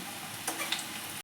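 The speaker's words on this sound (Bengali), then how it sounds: "বেশ লাল লাল করে ভেজে নেব। করে কম আঁচে ভাজতে হবে, ভেতরটা যেন কাঁচা না থাকে।" Vegetable manchurian balls deep-fry in oil over a low flame, giving a soft, quiet sizzle with a few small ticks and clinks, and no talking.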